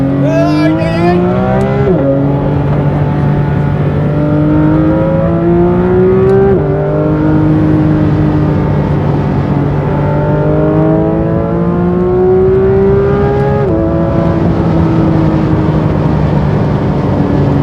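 A Porsche 992 GT3 RS engine drops a gear and surges hard, with loud climbing harmonic sweeps and quick shift breaks in between as it pulls up an on-ramp. No one is talking.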